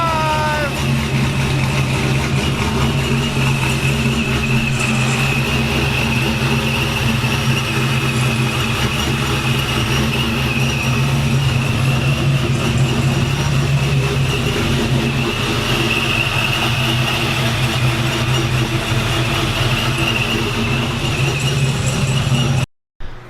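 A Hemi V8 fitted with a Texas Speed camshaft idles loudly up close with a steady, lumpy rumble for over twenty seconds, before cutting off abruptly at the very end.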